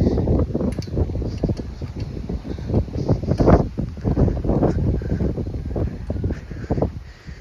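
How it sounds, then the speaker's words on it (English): Strong gusty wind from a tropical storm roars outdoors, buffeting the microphone in loud, continuous rumbling waves with no speech. "It's so windy today."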